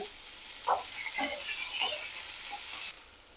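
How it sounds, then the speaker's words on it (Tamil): Chopped onions sizzle steadily in a pan over a low flame for a village-style country chicken curry, with a few soft scrapes and clinks from stirring and no voices. "அடுப்பை லோ ஃப்ளேம்ல வச்சு நல்லா வதக்கி எடுத்துக்கோங்க"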